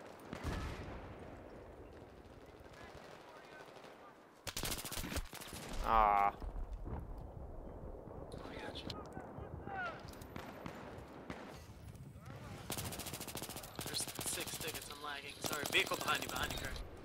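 Gunfire in the video game Battlefield 3, with bursts of automatic rifle fire and explosions cracking intermittently over a low battle din, mixed with a player's talking.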